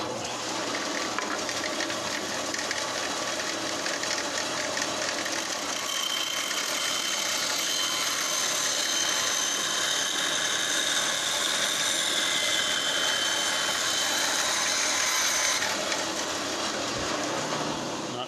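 A power saw makes a straight cut through a wood board about 11 inches long, a steady, loud, continuous whine and rasp running unbroken for the whole stretch.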